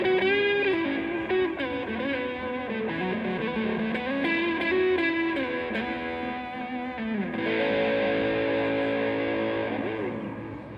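An electric guitar runs through distortion into a Pigtronix effects pedal, giving sustained swirling notes and chords whose tone shifts, loud and continuous throughout.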